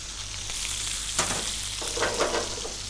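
Chopped onions and garlic frying in oil in a pan, a steady crackling sizzle with brief louder bursts of spattering as the onions hit the hot oil, close and continuous with no talking.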